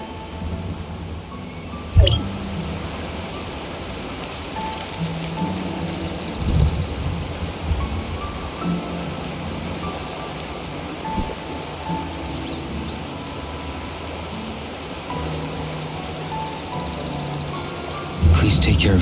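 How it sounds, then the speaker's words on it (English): Steady rain falls in the Tower of Fantasy video game world, an even hiss throughout with a few low thumps and rumbles breaking through. "It's raining."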